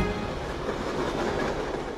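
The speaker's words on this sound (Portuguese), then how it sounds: "é nesse trem, né, que nós vamos seguir para chegar até a estação mais alta de toda a Europa" A Swiss mountain train running on rails toward Europe's highest station, heard from close by as a steady rumbling roar with faint rhythmic wheel clatter throughout.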